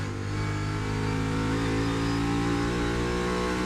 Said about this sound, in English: Let's see if Logano answers the call on the front straightaway.